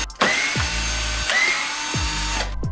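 A power driver whirs as it backs out T25 and T30 screws from a car bumper during a carbon fiber kidney grille install, with several bursts of motor whine rising and falling in pitch, close and loud.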